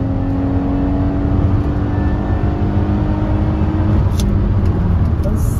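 A 15-year-old car accelerates in second gear, its engine a steady, loud drone and whir heard from inside the cabin, without a break.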